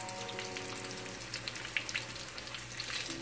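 Egg pitha batter frying in hot oil, a steady close crackling sizzle with scattered sharp pops throughout, no voices.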